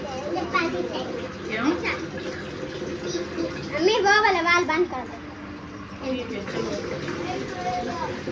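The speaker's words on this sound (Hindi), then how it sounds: "ये जो पानी भर रहा है क्योंकि पानी भी जो है ना ख़त्म हुआ था उधर कूलर में" Water running from a tap to fill a cooler, a steady splashing flow under children's voices and adult talk nearby.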